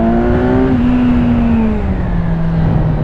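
A 2017 Kawasaki Z1000SX sport-touring motorcycle accelerates hard with its anti-wheelie control engaged, a loud steady engine drone rising in pitch up to a shift and then holding, close and continuous with heavy wind rumble beneath.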